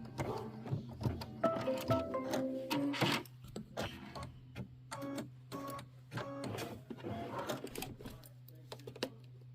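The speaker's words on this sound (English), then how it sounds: "now we're going to stitch it down" A sewing machine stitches fabric down for a quilt in short, repeated bursts with a whirring, ticking drone, with a low steady hum underneath and a person talking between runs.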